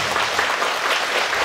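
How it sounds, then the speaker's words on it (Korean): An audience at a Sunday lecture claps together, a dense, steady patter of applause filling the room without speech over it. "박수 한번 치세요."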